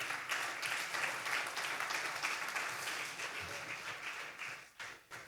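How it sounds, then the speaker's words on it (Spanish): Congregation applauding during a Spanish-language sermon on the Sermon on the Mount, a steady wash of clapping that holds for several seconds before thinning and breaking up near the end, moderately distant. "Sí, puede aplaudir."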